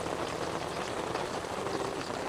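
Rain falls at a high-altitude campsite in Montana, making a soft, even hiss that stays faint and continuous with no voices.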